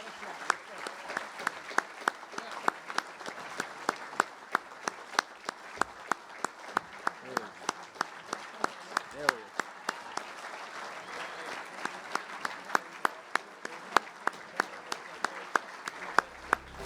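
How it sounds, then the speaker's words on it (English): An audience at a university athletics hall of fame ceremony applauds steadily, sustained clapping from many hands filling a hall, with sharp individual claps standing out throughout. "Ladies and gentlemen, another round of applause for Charlie Melanson"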